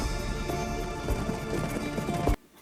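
Rapid hoofbeats of several horses galloping, a loud continuous drumming close by that cuts off abruptly at the end.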